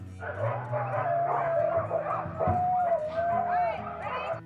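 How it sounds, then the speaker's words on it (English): Several sled dogs in Skagway, Alaska bark and yip excitedly in a continuous, overlapping chorus, fairly close and loud, with some whining mixed in. "they're just barking and so excited to see you"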